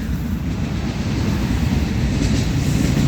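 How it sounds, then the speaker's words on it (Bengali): A train rumbles steadily past beside a park in Portugal, a loud, continuous roar with no pauses. "এর পাশে দিয়ে ট্রেন যাচ্ছে"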